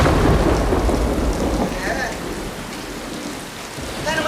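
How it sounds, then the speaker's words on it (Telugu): Heavy rain and rolling thunder played as a stage sound effect during a Telugu drama performance, a loud continuous wash of downpour with a deep low rumble that eases slightly partway through. "చూడు చూడు, ఇదిగో ఇంకా పెద్దదైంది వర్షం."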